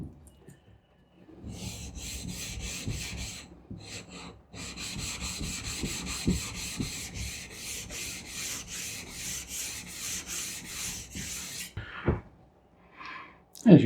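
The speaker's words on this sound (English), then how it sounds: "So now when I start on the 400 grit stone" A knife blade is stroked across a 400 grit sharpening stone in a rhythmic series of close, raspy back-and-forth scrapes, with brief pauses between runs of strokes.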